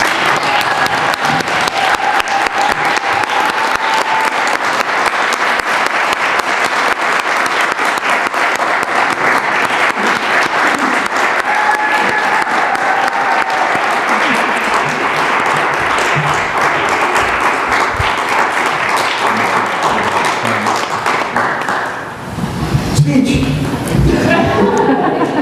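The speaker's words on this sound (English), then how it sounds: "we'll offer him a round of applause" A church congregation breaks into sustained, loud applause for a departing member, dense clapping filling the room for over twenty seconds before fading into quieter shuffling and murmurs.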